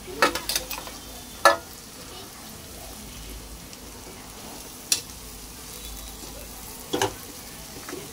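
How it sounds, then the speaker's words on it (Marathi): Mashed potato vada filling fries in a pan with a steady low sizzle, punctuated by several sharp clinks and scrapes of a spoon stirring against the metal. "आपली वड्याची भाजी चांगली फ्राय करून घ्यायची"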